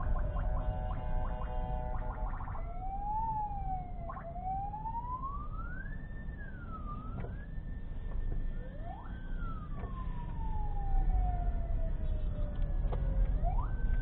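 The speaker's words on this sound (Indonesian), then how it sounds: "saya nggak tahu apa ini sirine. Satpol PP lewat." Siren of a passing Satpol PP vehicle, wailing and yelping with rising and falling tones over rumbling street traffic, loud and close throughout.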